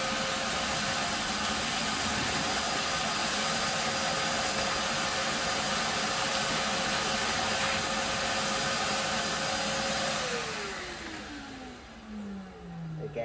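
A TITAN wet and dry vacuum cleaner roars steadily as it sucks up mortar, rubble and dust, a loud continuous whine that holds for about ten seconds before the motor spins down with a falling pitch.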